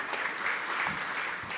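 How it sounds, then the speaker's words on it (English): An audience at a waste challenge competition applauds a team, a brief, even burst of clapping that holds steady throughout at moderate distance. "let's give a big round of applause for Builder"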